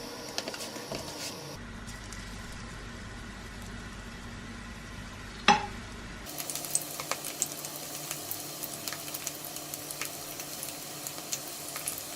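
Steady sizzling and crackling of cauliflower frying in hot oil, continuous and moderately close, with a sharp clink partway through and no talking.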